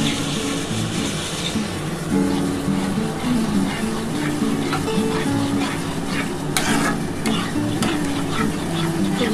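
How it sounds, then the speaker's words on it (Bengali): Semolina being stirred in boiling water in a pan on a high gas flame for suji luchi dough, with steady scraping and bubbling close by throughout and no talking. "এবার ভালো করে সুজিটা ভালো করে নাড়াচাড়া করতে হবে।"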